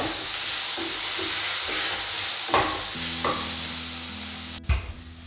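Coriander and cumin powder being stirred into a frying curry of spinach and chicken, with a steady sizzle and scraping strokes of the spoon against the pan, fairly close, no talk.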